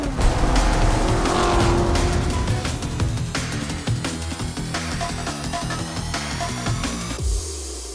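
Race cars scream around the Nürburgring track in the video game Forza Motorsport, with loud revving engines, quick gear shifts and squealing tires as they pass close by in a continuous rush.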